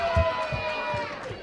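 A crowd at an independent wrestling show cheers and chants in rhythmic bursts, with a thumping beat under the mass of voices.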